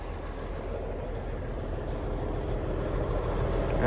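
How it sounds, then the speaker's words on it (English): An old diesel semi-truck engine runs close by with a steady, deep rumble that holds evenly and swells slightly toward the end, with no talking over it. "Oh, it's a sweet sounding truck."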